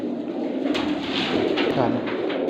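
Rampuri bloodline pigeons coo steadily at close range, soft throaty rolling calls overlapping with light rustling and faint background noise.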